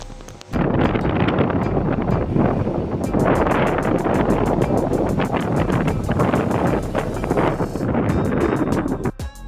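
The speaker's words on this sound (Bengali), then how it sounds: "সাংঘাতিক ঝোড়ো হাওয়া চলছে" Strong gusty wind buffets the microphone on a riverbank after a cyclone, a loud continuous roar with rushing surges and no talk.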